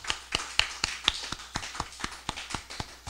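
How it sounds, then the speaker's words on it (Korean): A church congregation claps after a prayer. Steady, evenly spaced claps sound quiet and somewhat distant. "우리 하나님께 영광의 박수 드리겠습니다."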